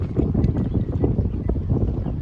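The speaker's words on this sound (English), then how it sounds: "Windy, big tailwind." Strong wind on a disc golf course rumbles and buffets steadily against the microphone, a dense low roar throughout.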